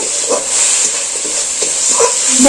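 Egg masala with black pepper is stir-fried in a pan, making a loud, continuous hissing sizzle with a few soft stirring knocks, heard up close and without talk.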